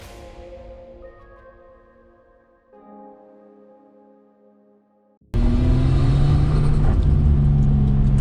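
Nissan Skyline R34 engine with turbo: a quiet, steady tonal hum for about five seconds, then a sudden loud, sustained full-throttle roar with rising pitch as the car accelerates hard, close and dominant.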